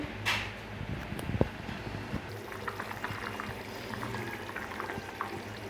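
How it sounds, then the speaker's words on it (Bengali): Fish curry broth coming to a boil in a pot, a steady low bubbling and seething with scattered small pops and crackles, close and fairly faint, with no talk. "এই যে ঝোলে এটা এই যে টকবক করে ফোটা শুরু হয়ে গিয়েছে"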